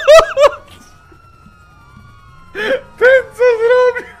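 Police siren wailing during a chase in GTA 5, rising and falling tones heard in bursts at the start and again near the end, with a faint steady hum between and excited voices over it.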